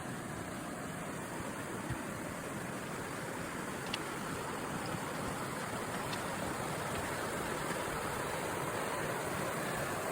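Johnston Creek in Banff National Park rushes below a footbridge, a steady broadband roar of flowing water that stays constant and fairly close throughout, with no voices.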